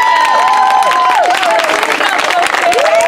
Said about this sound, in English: I would appreciate a big round of applause for five guys